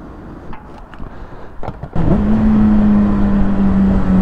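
A 2008 Suzuki Bandit GSF 650 S motorcycle is being ridden: a few scattered knocks and rustles come first, then the engine surges into a loud, steady, close-up drone that holds to the end.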